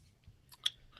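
Close, quiet crunchy chewing, a few soft bites and one sharper crackle over about a second, with no voices.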